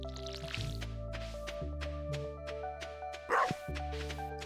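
Game dog from Stardew Valley barking in a few short yips over a steady looping farm melody, with a brief squishy splash near the end; no talking.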